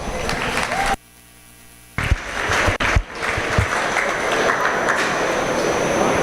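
A crowd at a swine show gives a round of applause, steady clapping that starts after a brief silence and carries on loud and dense to the end, with some talk mixed in at the start.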